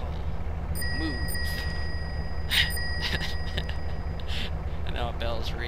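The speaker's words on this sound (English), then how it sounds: "And now a bell's ringing" Bell ringing in MTA:RP: a few sharp dings and tonal chimes over a steady low traffic hum, with beeps scattered through.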